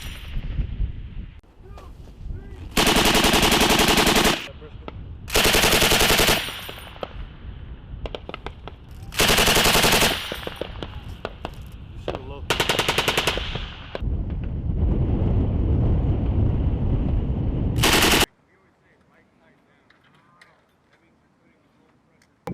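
US Marines fire M2 Browning and M240 machine guns in loud, sustained bursts at a range. Several long blasts are separated by short pauses, with a quieter stretch toward the end.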